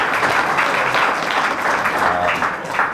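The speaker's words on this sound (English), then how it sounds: "Can we give him a round of applause for his leadership?" Audience applause fills a keys to the city ceremony, steady, dense clapping held at an even level for about three seconds, with a faint murmur of voices underneath.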